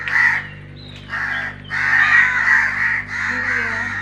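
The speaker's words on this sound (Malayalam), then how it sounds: "മൈ ഗോഡ്, ലോകം മൊത്തം കാക്ക ഇവിടെയുണ്ട്." Several crows caw in a dense flock, the harsh calls coming in bursts with brief gaps and overlapping near and far over a low steady hum.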